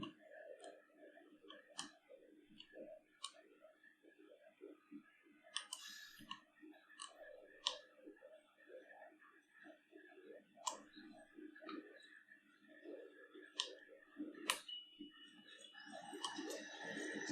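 Computer keyboard keys click in sharp, scattered taps over soft background sounds while someone plays the EmergeNYC firefighting game, with FDNY units working a laundromat fire.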